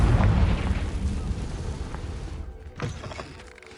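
A Confringo spell explosion in the game Hogwarts Legacy, a heavy rumbling blast that starts loud and decays over a few seconds, followed by a smaller second burst.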